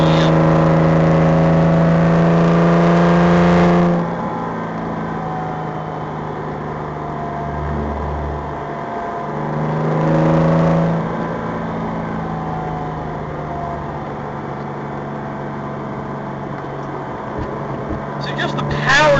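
A car with a hand-built Porsche R43 flat-six engine revs in loud, rising pulls, short shifting below 5,000 RPM, then drops to a lower drone between gears while someone talks over it.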